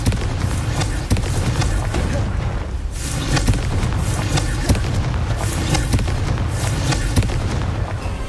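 Confringo fire-spell blasts in the Hogwarts Legacy video game, a string of heavy booming explosions roughly every second or two over a dense, continuous bed of game sound, loud and close.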